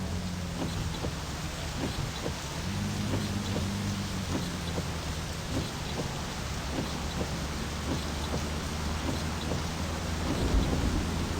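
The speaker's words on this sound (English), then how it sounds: "Oh my god, stop raining." Steady rain falls throughout in the video game My Summer Car, with dense pattering and a low rumble underneath, fairly loud and continuous without any voices.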